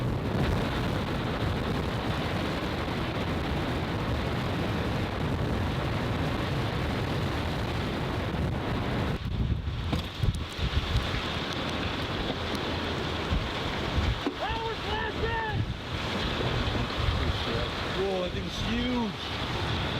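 Storm chaser's recording of a tornado storm near Wichita: a dense, steady roar of wind and rain fills the whole span, with faint voice-like tones surfacing briefly late on.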